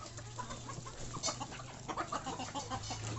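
Several chickens cluck softly in short, scattered bursts over a steady low hum, fairly close but quiet, with no talking.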